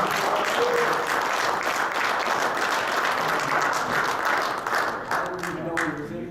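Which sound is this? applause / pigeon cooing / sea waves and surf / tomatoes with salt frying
applause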